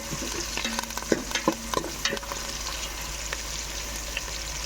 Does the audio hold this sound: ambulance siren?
no